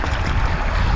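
Rainwater drained from a farm field gushes hard out of a pipe, a loud, steady, close rushing roar with no voices.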